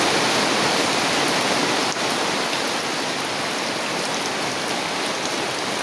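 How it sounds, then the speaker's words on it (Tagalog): Heavy rain falls in a dense, steady hiss that continues without a break, loud and close, with no voices. "ulan na naman"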